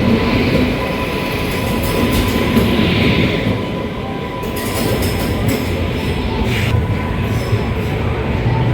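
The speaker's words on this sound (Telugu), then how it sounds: "మన ట్రైన్ సింహాద్రి ఎక్స్ప్రెస్" Simhadri Express, with new LHB coaches, is heard from inside as it runs between Guntur and Visakhapatnam. The rumble and rattle of the wheels on the track is steady and continuous.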